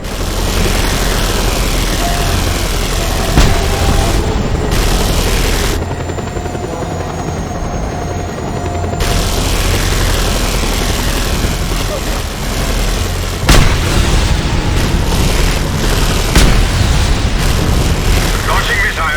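Loud, sustained roaring explosions and rumbling blasts from incoming missiles in the Just Cause 2 video game, filling the whole stretch with dense noise, with a brief quieter dip midway and a sharp burst later.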